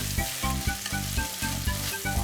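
Burdock pasta noodles stir-fried in a pan, a loud continuous sizzle with rhythmic tossing and scraping strokes repeating about every half second.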